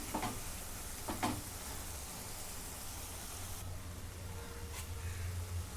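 Egg being mixed into cooked masala in a hot pan gives a steady, even sizzle throughout, with a few soft scraping strokes of the spoon near the start and end.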